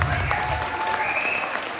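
An audience at an Ugadi celebration held by a Telugu association in Switzerland bursts into loud, sustained applause, dense clapping filling the hall, with a faint tone lingering underneath.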